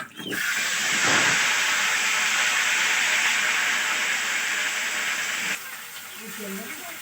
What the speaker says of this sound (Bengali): মা তো ওদিকে মাংস করবে বলে ওই আলুটা ভেজে নিচ্ছি